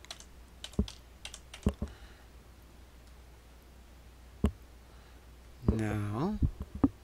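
Scattered keystrokes on a computer keyboard while entering text in Windows Paint, sharp isolated clicks with pauses between them, followed by a brief burst of talk near the end.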